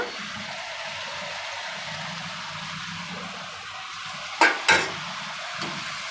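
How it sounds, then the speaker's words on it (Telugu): Chicken pieces for methi chicken curry dropped into a hot pan, a steady close sizzle of frying with two sharp loud bursts near the end as the meat hits the oil, no voices. "ఇప్పుడు చికెన్ వేసేస్తున్నాను ఫ్రెండ్"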